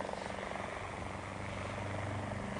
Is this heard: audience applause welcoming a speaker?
no